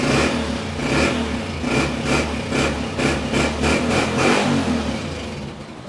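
A Honda CB 125F motorcycle engine self-starts close by with a pulsing, throbbing rhythm, revving slightly before settling into a steady idle.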